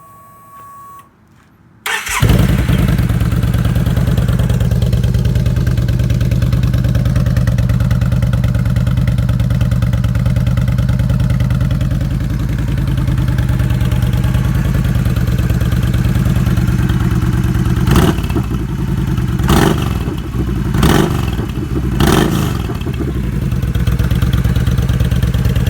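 A 2012 Yamaha V-Star 950 motorcycle with a Roush 2-inch slip-on exhaust starts up and settles into a steady, loud, close idle, a few sharp throttle blips near the end.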